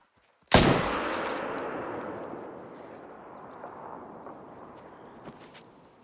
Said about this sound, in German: Aber zum Glück noch den zweiten Schuss, glaube ich, drauf bekommen.